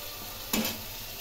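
A spice paste of dried and fresh red chillies fries in oil for a Bengali fish curry, a brief soft sizzle with one quick stirring scrape standing out from the hiss.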